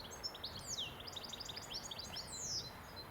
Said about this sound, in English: Goldfinch in the background.